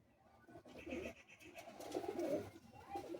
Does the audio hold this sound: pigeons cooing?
yes